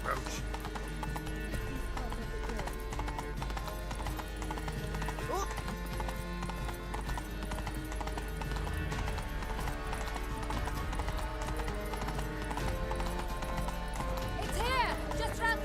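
Roach, the horse in The Witcher 3: Blood and Wine, runs with fast rhythmic hoofbeats over constant game music and ambience, with a whinny near the end.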